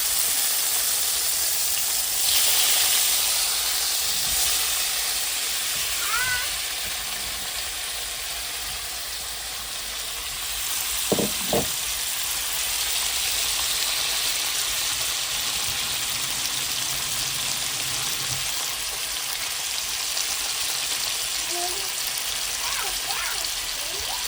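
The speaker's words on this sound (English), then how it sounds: "Ya metí una cuchara de aceite y ahora vamos a meter el tofu." Tofu sizzling in a spoonful of oil in a hot wok, a continuous dense crackle and hiss held close throughout, with a couple of brief knocks around the middle.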